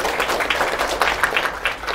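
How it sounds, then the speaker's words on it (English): Applause from a seated audience at a tech info session in a sponsored venue, a steady wash of many hands clapping throughout with no voices on top. "So please give Microsoft a round of applause."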